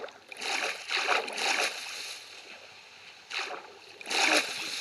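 Water splashes in the Minecraft-style game as a character wades in, several bursts of splashing and sloshing in uneven clusters, with a steady background hum between them.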